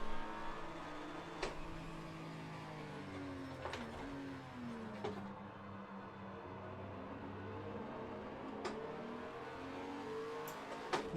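A race car launches after a clutch drop on very short gears, its engine revving and rising through rapid shifts at a steady distance, with no talk.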